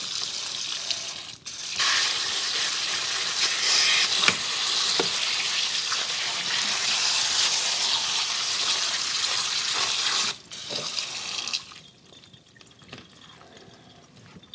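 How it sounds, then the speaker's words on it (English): Tap water runs steadily over canned fruit in a sink for a quick rinse of light syrup. The broadband rush is loud and continuous, with brief breaks near the start and near the end before the flow softens and trails off. "And once again, we're going to do a quick rinse."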